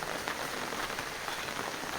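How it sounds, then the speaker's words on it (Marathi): Light rain falls steadily, a soft even patter of drops on surfaces with no voices. "वरून हलका पाऊस आहे, मोठा पाऊस नाही"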